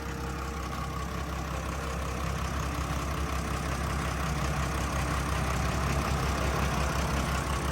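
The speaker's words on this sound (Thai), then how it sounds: "ตัวนี้ก็จะเป็นเครื่องยนต์ Isuzu 6BG1" An Isuzu 6BG1 six-cylinder engine on a SAKAI T2 seven-wheel rubber-tyred road roller runs at a steady idle close by, giving a constant low rumble with no talking.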